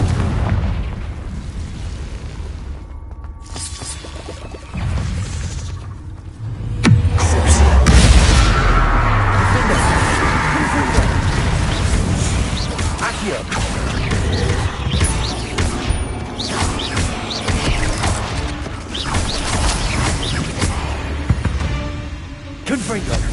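A Confringo blasting spell explodes in Hogwarts Legacy: a heavy boom bursts in after a brief lull, followed by rumbling crashes and scattered debris, loud and close, with speech heard over parts of it.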